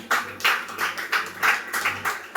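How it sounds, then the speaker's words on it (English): Farmers at a tree-planting event for regenerative agriculture clapping for themselves, a loud, close run of evenly spaced claps that pulse in a steady beat with no voices over them. "If you are a good farmer with all these qualities, please clap for yourself"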